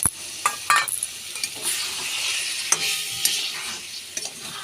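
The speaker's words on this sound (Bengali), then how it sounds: "ভালো করে একটু নাড়িয়ে চাড়িয়ে নেব।" Cauliflower curry stirred in a pan, with soft scraping strokes and occasional sharp utensil clinks over a steady frying sizzle, close and alone.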